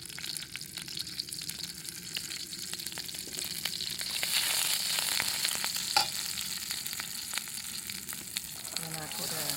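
The white part of an onion is stir-fried in a pan, giving a soft, continuous sizzle with scattered clicks and scrapes from stirring, fairly quiet and steady throughout.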